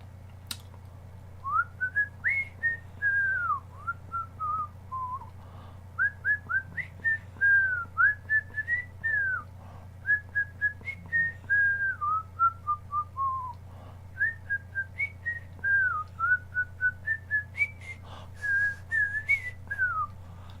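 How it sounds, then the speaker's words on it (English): A single person whistles a wavering melody in short rising and falling phrases, close and fairly clear over a low steady hum, with no talking. "Let's have a whistle."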